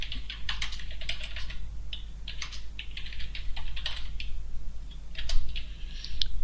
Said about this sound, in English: and then I'll type a message